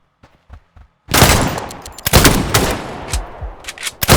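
Gunfire in the pixel-art shooter Scavland starts with a few quiet, spaced pops and then turns into loud, rapid bursts of shots that stop and start.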